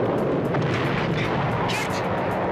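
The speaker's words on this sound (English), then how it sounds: "they're still shooting at us" Heavy gunfire and blasts from an action scene in the TV show Knight Rider, a loud, dense, continuous barrage of shots and booms with no gaps across the clip.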